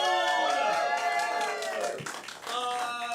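A live improv comedy audience claps and cheers, a noisy crowd roar that swells and dips under a host's voice.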